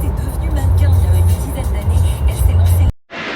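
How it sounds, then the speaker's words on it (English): A car driving through road tunnels in Switzerland, with a steady loud engine and road rumble echoing in the enclosed space that cuts off abruptly near the end, followed by a brief quieter sound. "driving through the tunnels of Switzerland."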